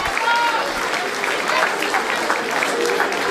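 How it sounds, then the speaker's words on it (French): An audience at a live nativity scene applauds steadily, a dense patter of many hands clapping throughout, with a voice talking faintly underneath. "Vous pouvez les applaudir."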